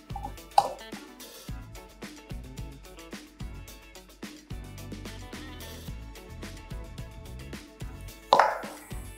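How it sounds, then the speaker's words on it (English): Cream being stirred with liquid nitrogen in a bowl to make ice cream: quiet, irregular clicks, knocks and scrapes of a utensil, with a couple of louder clatters. "So now that we've added some nitrogen, we'll stir the bowl to help the cream freeze."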